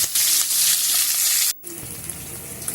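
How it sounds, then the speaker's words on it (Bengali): Capsicum and onion stir-fried with ginger and garlic for chilli baby corn sizzle loudly and steadily in the pan, with a brief cut-out midway before the frying resumes slightly quieter. "ক্যাপসিকাম পেঁয়াজটা দিয়েও ভালো করে নেড়ে চেড়ে আমি আদা রসুনের সাথে ভালো করে মিশিয়ে নেব।"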